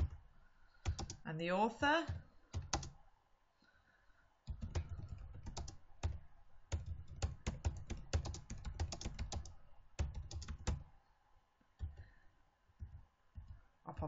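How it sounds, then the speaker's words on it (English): Typing on a computer keyboard: bursts of quick, close key clicks in uneven runs with short pauses between, while a person speaks briefly. "So I'm just going to type in a website that I've visited."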